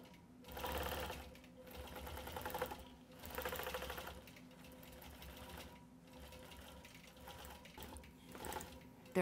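A computerized quilting machine stitches a point-to-point pattern across a quilt, giving a steady, close mechanical whirring chatter that swells and eases in rhythmic waves, with a low voice faintly underneath.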